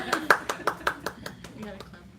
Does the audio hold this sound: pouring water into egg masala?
no